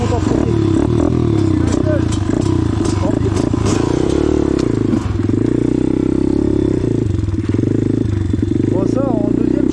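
An enduro motorcycle revving hard while climbing a giant rock step, the engine roaring and wavering close by with clattering knocks and thuds as the bike struggles upward, with people talking over it.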